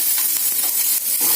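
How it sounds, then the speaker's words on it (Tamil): Mustard seeds and chopped onion sizzle in hot oil in a pan, a steady close crackle and hiss with faint stirring scrapes, no voices. "இப்போ கடுகு போடுறேன். நறுக்கின வெங்காயம் கொஞ்சம் போடுறேன்."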